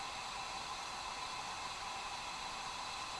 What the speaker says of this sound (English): I got a Coleman lantern going, and you can probably hear the white noise over here.